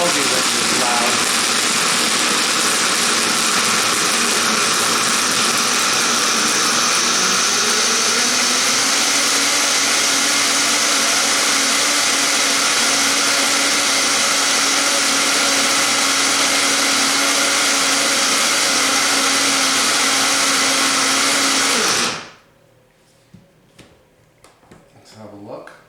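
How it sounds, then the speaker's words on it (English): A blender whirs loudly and continuously for over twenty seconds while mixing chickpea brownie batter. Its pitch shifts slightly partway through, and it cuts off abruptly near the end, leaving quiet kitchen sounds. "put the lid on and blend until smooth"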